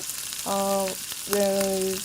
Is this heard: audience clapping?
no